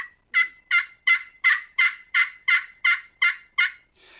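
A series of about ten evenly spaced, raspy high-pitched plain yelps made on a turkey slate call, steady in rhythm and fairly loud, with no talking.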